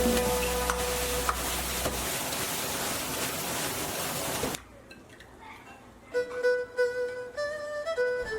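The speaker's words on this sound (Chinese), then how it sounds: "撒上一把芹菜、葱段，稍许翻炒" Frogs stir-fried with celery and scallions in a wok give a steady loud sizzle and hiss for several seconds, cutting off abruptly before a quieter stretch with music.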